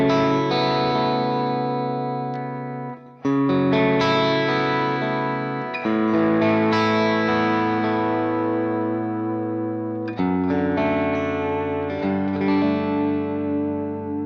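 A Suhr Pete Thorn electric guitar played through a clean tone, with sustained strummed chords ringing out loud and alone, a brief pause near three seconds and a fresh strum around ten seconds.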